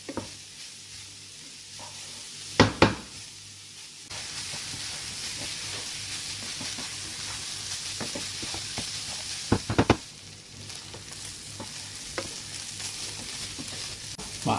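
Onions fry in a pan with a steady hissing sizzle, while a spoon stirs them in intermittent scraping clacks and knocks, close up, with no talking.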